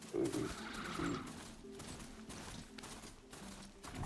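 Horse-like machine from Horizon Zero Dawn giving two short, sharp neighing whinnies close by, followed by quieter mechanical clanks and scattered game sounds.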